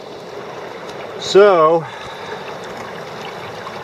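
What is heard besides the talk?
river flowing at high water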